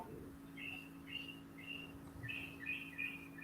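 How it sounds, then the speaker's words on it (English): A small bird chirps indoors in a cluttered garage, its short bright tweets repeating in a loose run over a steady electrical hum, with no voices. "Did a bird find its way in there already?"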